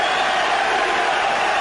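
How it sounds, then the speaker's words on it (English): Dense arena crowd at a super bantamweight boxing bout between Erik Morales and Marco Antonio Barrera, a loud continuous roar of shouting with no breaks. "Well, the crowd is shouting terribly."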